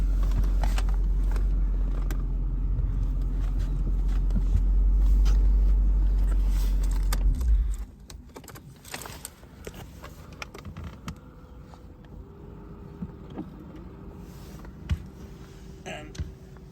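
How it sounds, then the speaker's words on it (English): Power roof of a 2002 Jaguar XKR convertible rising and locking into place: a steady low motor hum for the first several seconds, then stopping, followed by scattered mechanical clicks and small knocks as the top settles. "there comes the roof, and that automatically just locks down in the position there"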